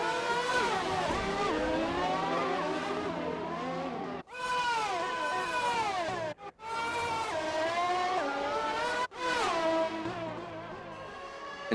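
Formula 1 race cars at the 1998 Mexico Grand Prix struggle for grip, engines screaming loudly and continuously with shifting pitch, broken by a few brief gaps.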